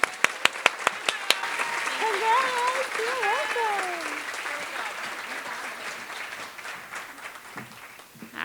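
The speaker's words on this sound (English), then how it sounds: "Please congratulate Kimberly with your applause." An audience claps in sustained applause that swells and then gradually fades, with a few sharp claps at the start and voices rising over the crowd.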